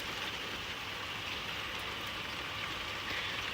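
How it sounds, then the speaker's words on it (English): Heavy rain pours down in torrents, a dense, steady hiss of countless drops on surfaces that stays even and unbroken throughout, with no voices. "I'm really happy that the rain came."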